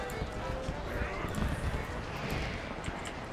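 Horse hooves clip-clopping in the Final Fantasy XIV video game, quick repeated hoofbeats mixed with a whinny amid a busy festival scene, with a person talking over it.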